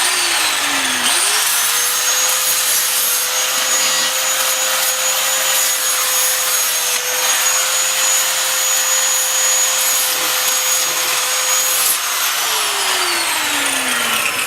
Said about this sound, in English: I got a flat wheel here on a grinder.